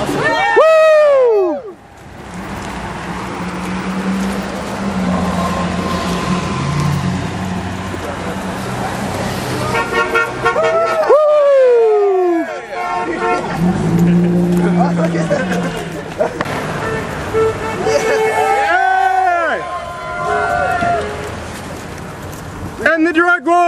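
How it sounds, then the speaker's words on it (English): Car horns honk repeatedly from passing traffic along a roadway during a cannabis march in Milwaukee, sounding as loud, bending tones over a steady traffic rumble while marchers chant and cheer nearby. "Honk for freedom!"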